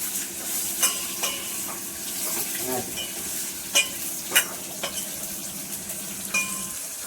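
Curry leaves hit hot oil for a sambar tempering and give a steady, close sizzle for the whole stretch, broken by a few sharp clinks and scrapes of stirring against the pan.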